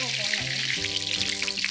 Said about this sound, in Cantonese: 個鑊入邊先放多少少油，然之後將嗰啲薑塊半煎炸咁樣將佢炸香